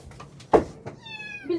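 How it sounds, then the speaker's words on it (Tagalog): A kitten gives a short, clear meow close by, with light household noise and faint background sounds around it. "Saan yung kuting?"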